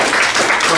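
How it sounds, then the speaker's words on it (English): An audience gives a student a dense burst of applause, many hands clapping loudly and close together with no gaps. "So give her a big round of applause."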